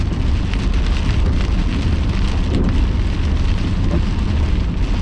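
Heavy, steady rain mixed with hail pounding a surface with a dense hiss and a deep low rumble underneath, constant and loud throughout, during a severe squall line storm.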